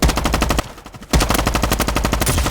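Rapid automatic gunfire in a Roblox shooting game, dense bursts of repeated shots with a short pause in the middle before firing resumes, loud and continuous.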